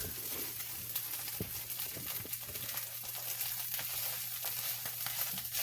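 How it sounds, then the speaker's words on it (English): Corned beef hash fries in a pan, a faint steady sizzle and crackle with a low hum beneath, broken by a few soft scrapes and taps as a spatula presses it down. "So this time I'm squishing it with a spatula."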